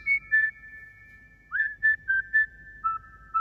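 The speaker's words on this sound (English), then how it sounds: "It's that whistling again" Clear, high whistling in short tonal phrases, some notes held and some gliding, with brief pauses between them and no talking.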